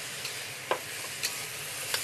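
Scallions stir-fry in a very hot wok on a BlueStar cooktop, giving a loud, even sizzle with a few sharp spatula clicks against the metal.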